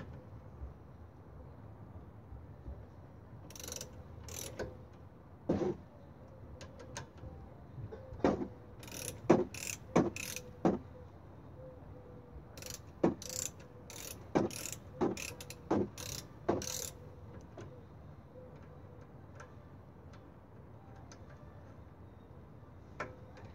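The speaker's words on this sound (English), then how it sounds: "And then we will torque that to 24 feet-pound." A torque wrench clicks and ratchets while tightening 14 mm brake bolts on a Hyundai Sonata during a rear brake pad and rotor job, with sharp, irregular clicks standing out against a quiet garage background.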